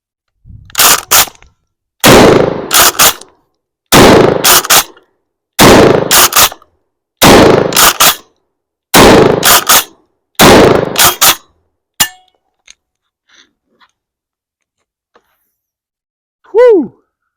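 KelTec KSG 12-gauge shotgun firing slugs or buckshot, seven loud close blasts spaced about two seconds apart, each with a short mechanical rattle, then quiet with a few faint clicks and a brief vocal whoop at the end.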